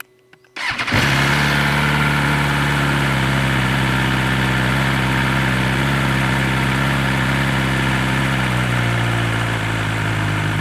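A 2024 BMW S1000XR TE motorcycle starts with a sharp crank and catches, then settles into a loud, steady high idle that drops slightly in pitch near the end, with no talking.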